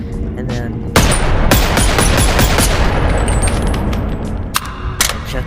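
A pistol fires in a VR gun game with a sharp blast, followed by dense crackling gunfire and later two more sharp shots, loud and close.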